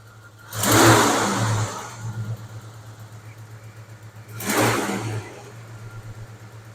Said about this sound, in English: It just sounds like a lifter rattling from cheap gas